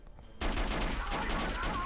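Sudden burst of rapid gunfire from a film scene, V for Vendetta, erupts after a brief quiet moment and continues as a loud sustained fusillade of overlapping shots.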